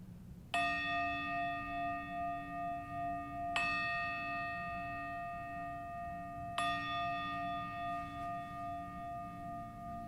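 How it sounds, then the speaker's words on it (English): A deep bell strikes three times at steady intervals, each ring sustaining and slowly fading as it echoes around a room. "you're going to hear the bell, the sound echoing through the room"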